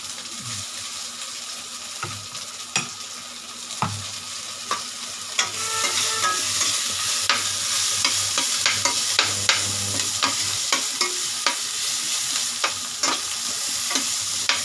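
Hariyali chicken being stirred in a pan in a small kitchen, steady frying sizzle with repeated scraping strokes of the spoon, a few louder knocks early on, then denser sizzling throughout.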